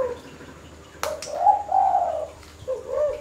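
A turtle dove or zebra dove gives a few soft, close cooing calls with short pauses between them, with a sharp click just before the first coo against a quiet background.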